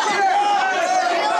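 Wrestling fans at a tag team match roaring and shouting continuously, a loud dense crowd noise with a commentator's voice over it.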